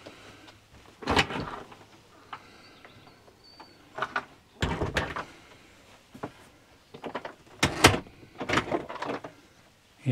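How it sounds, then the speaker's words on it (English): Washroom sliding door in a Swift Kon-Tiki Sport 574 caravan, several sharp knocks and slides recurring at intervals, fairly close and moderately loud against a quiet interior. "you can shut the door"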